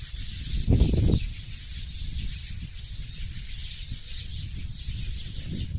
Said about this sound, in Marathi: या भेंडीच्या झाडावरती ना खूप चिमण्या बसलेल्या असतात आमच्या इथे